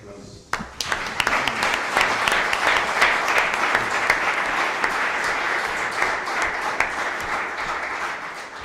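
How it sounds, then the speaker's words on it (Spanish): An audience at the opening of a 2015 theological colloquium in Mexico breaks into strong applause that starts abruptly, holds steady and full for several seconds, then gradually tapers. "Lo recibimos con un fuerte aplauso."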